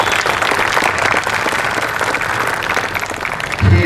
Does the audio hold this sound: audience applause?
yes